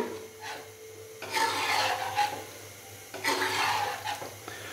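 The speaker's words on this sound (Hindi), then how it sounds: "अच्छे से मिक्स करेंगे" Whole green chilies and fresh mint leaves being stirred into a pot for white chicken pulao, giving two bursts of scraping, rasping spoon-against-pot sound with quieter gaps between.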